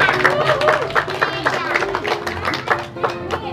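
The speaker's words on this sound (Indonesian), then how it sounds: "Tepuk tangan." Children clap their hands at a birthday party hosted by a clown, a loose burst of uneven slaps that are fairly close and lively, with chatter and voices mixed in.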